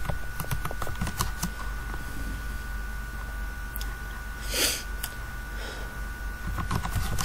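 Typing on a computer keyboard while writing CSS code: a fast, irregular run of light key clicks with a louder clack of a larger key near the middle, close and clear over a steady electrical hum.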